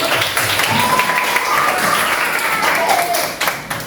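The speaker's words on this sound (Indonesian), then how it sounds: "Tepuk tangan semuanya." A classroom full of students clapping together, dense and steady, with voices mixed in underneath.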